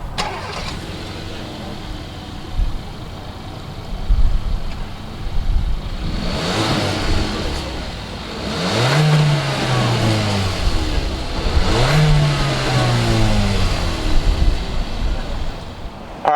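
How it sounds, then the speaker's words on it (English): A 2019 Hyundai Kona's 1.6-liter turbocharged inline-four cranks, catches and settles into a steady idle, then rises in two quick revs that swell and fall back, heard close and fairly loud. "Let's go ahead and fire up this inline-4 turbocharged engine and see what it sounds like."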